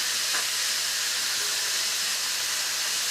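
Food for street tacos sizzles in a pan over medium heat, a steady, close, bright frying hiss with faint stirring clicks and no voices.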